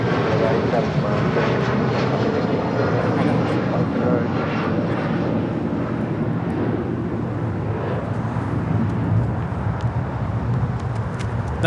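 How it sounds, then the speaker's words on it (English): A United Boeing 757-300 jet thunders continuously as it departs LAX for Chicago, its loud, broad engine roar steady throughout the clip, with faint voices talking beneath it. "1400 departing to Chicago here on 757 300."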